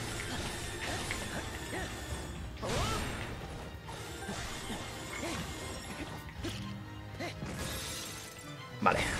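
Video game combat in Hyrule Warriors as bombs break a Moblin's shield: repeated crashing, shattering hits and mechanical clanks over dense game sound, fairly continuous with a sharp impact near the end.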